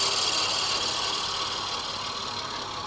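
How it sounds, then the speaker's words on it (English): A drill bit bores into a pen blank spinning on a wood lathe, shaking from being slightly off center. It makes a continuous loud whirring hum with a rattling, vibrating edge, close by and with no talking. "That's why my drill bit's shaking this bad."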